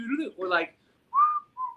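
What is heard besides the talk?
person whistling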